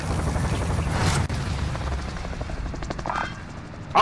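A helicopter in Call of Duty Warzone, its rotor thumping loud and near in a steady droning pulse, with a brief dropout and game effects toward the end.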